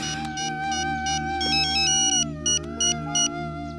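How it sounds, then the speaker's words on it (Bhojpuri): A phone ringtone plays during a call, a steady melodic electronic tone with short repeating pulses toward the end, clear and alone without talk. "एक फोन सूरज को लगाइए।"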